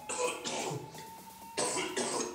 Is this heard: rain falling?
no